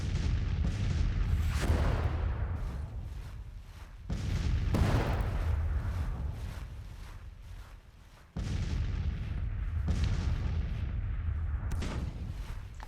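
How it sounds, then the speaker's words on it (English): Artillery fires in the Civil War strategy game Grand Tactician, with three heavy booming shots spaced a few seconds apart, each followed by a rolling rumble that fades, distant and alone. "Looks like my artillery is able to fire so far"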